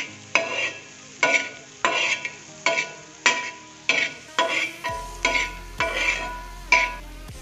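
Onions cooking in butter on a flat tawa griddle for an Amritsari nutri kulcha, heard as a soft sizzle under a steady run of about a dozen rhythmic scraping strokes of a spatula stirring them, close and fairly quiet.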